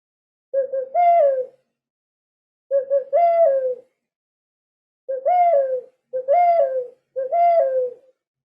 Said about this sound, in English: These are called ocarinas.